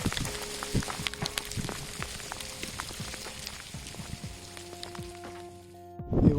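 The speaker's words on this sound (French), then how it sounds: "Bon bah maintenant c'est la grêle." Steady patter of hail striking surfaces on a mountain walk, dense and crackling, with scattered sharper ticks throughout, ending briefly quieter before a final burst.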